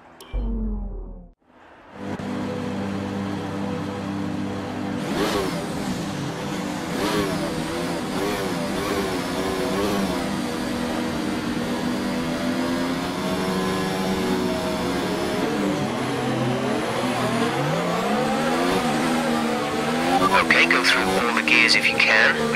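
Mercedes Formula 1 car engine from the F1 2019 racing game at Silverstone, idling and revving before the race start, a steady loud mechanical drone with rising and falling pitch sweeps, under continuous radio-style talk.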